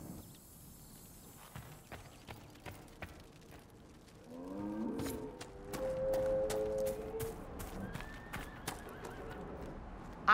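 A chestnut purebred Ferelden Forder horse in the video game Dragon Age: Inquisition lets out a loud neigh midway, with hoof clip-clops, thuds and footsteps scattered around it.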